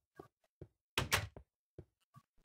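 A door in a video game opens with a few soft clicks and thunks, then a loud heavy scrape and slam in the middle, followed by more faint knocks, with no talk.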